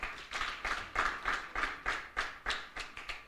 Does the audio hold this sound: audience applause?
yes